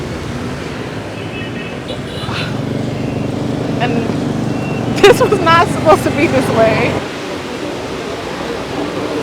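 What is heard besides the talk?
heavy tropical rain pouring in Nha Trang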